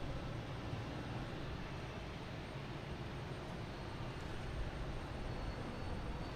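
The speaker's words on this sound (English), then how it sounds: "next taking off is JetBlue heading to Orlando, an A320" JetBlue Airbus A320 taking off at Boston Logan Airport, heard as a steady, faint, distant broadband engine roar that holds evenly with no speech.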